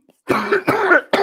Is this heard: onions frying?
no